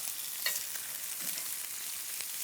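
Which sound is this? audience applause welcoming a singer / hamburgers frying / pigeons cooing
hamburgers frying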